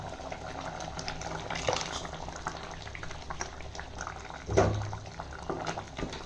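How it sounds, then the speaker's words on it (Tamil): Cooked lentils being added to a pot of boiling pumpkin rasam, with a steady bubbling simmer throughout and a couple of louder splashy stirs or pours, one short one early and a heavier one near the end. "இப்போ இந்த ஸ்டேஜில் நம்ம வேக வச்சு எடுத்து வச்சுருக்கிற பருப்பை சேர்த்துக்கலாம்"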